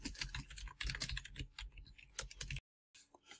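Computer keyboard typing a database query, rapid uneven keystrokes close up for about two and a half seconds, then a short pause and a few faint final taps.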